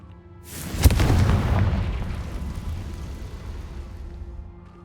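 The Confringo fire spell in the game Hogwarts Legacy goes off as a single deep, booming explosion, then its rumble fades out slowly over several seconds.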